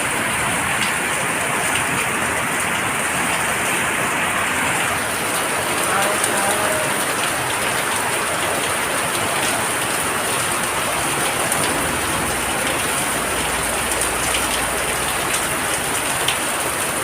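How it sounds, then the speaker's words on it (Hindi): Heavy, steady rain pours down through a full day of downpour in a flooding city, a dense unbroken hiss of drops drumming on surfaces, loud and close with no break. "देखो अभी इतना ज़्यादा बारिश आया हमारे यहाँ पर"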